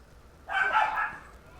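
A dog in the Sly 3: Honor Among Thieves video game gives a single short, yipping bark that stands alone against quiet background.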